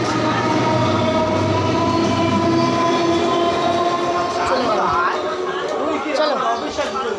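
A train pulls out from platform 2 of Dhakuria railway station, with a steady loud rumble and clickety-clack of wagons throughout while people chatter nearby on the platform.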